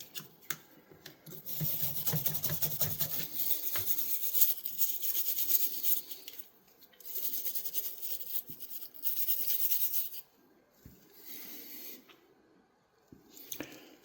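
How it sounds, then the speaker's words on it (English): An old Sears Craftsman camp and utility knife is rubbed clean, with close, quiet scrubbing and squishing friction in uneven stretches broken by brief pauses. "Just going to give it a quick rub."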